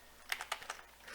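Soft keystrokes of a command being typed on a computer keyboard in a terminal, a short run of five or six light taps, faint and close.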